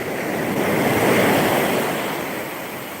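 Ocean waves wash in as the tide comes in, a steady, close broadband surf roar that swells and eases slightly, with some wind buffeting the microphone.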